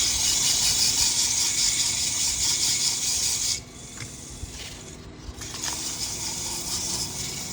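Loud, steady rasping hiss of sandpaper held against a spinning wooden goblet on a lathe, easing briefly midway as the pressure lifts before the rough abrasion picks up again.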